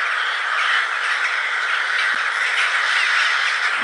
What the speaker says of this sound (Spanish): estas aves maravillosas se juntan, hacen un ritual hermosísimo antes de irse a dormir